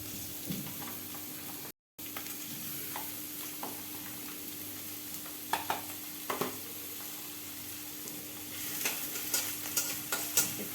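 Chopped onion fries in hot ghee with a soft, continuous sizzle, broken by intermittent spatula scrapes and clicks against the pan that grow busier toward the end; no one speaks.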